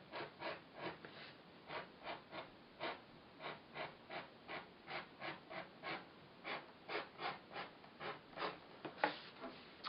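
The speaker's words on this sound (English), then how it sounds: "I could use this utility knife, or industrial knife, I guess it's called, and" Rhythmic slicing strokes of a utility knife cutting sandal-making material, about two strokes per second, each a short raspy rub, close and steady with no talk.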